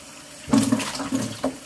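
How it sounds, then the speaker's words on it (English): Hot water gushes from a tap for cleaning maple syrup buckets, a short splashing burst that starts abruptly and runs briefly at moderate level, with no talk. "Get the hot water going."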